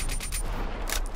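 A burst of rapid gunfire in a shooting video game crackles loud and dense through the whole moment, with no talk over it.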